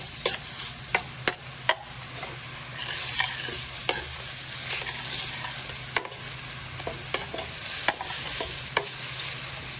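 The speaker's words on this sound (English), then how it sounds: "I chopped up half an onion, and I'm sauteing it in some olive oil." Half an onion sautéing in olive oil in a pan, a steady soft sizzle with repeated sharp clicks and scrapes of a utensil stirring at irregular intervals, close and without talk.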